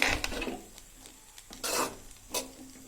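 Carrot and bean fried rice being stirred and mixed in a pan, short scraping and rubbing strokes of a spoon against the pan, close and moderately loud, in brief bursts.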